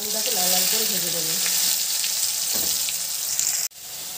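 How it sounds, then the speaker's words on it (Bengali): Potatoes frying in hot oil sizzle loudly and steadily up close, with faint clinks and a sharp drop in noise near the end; no one speaks. "এবার দিয়ে দেবো আলুটাকে লাল লাল করে ভেজে দেবো"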